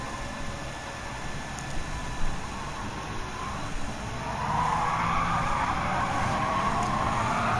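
Race cars in Gran Turismo 7, including a Porsche 918 Spider and a McLaren 650S 2014, give a steady engine and road roar with tyre noise that swells louder and higher in the second half.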